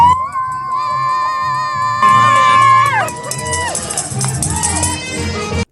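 Roadside spectators cheering runners at the London Marathon 2022, loud whoops, shouts and whistles from a close crowd with continuous babble throughout.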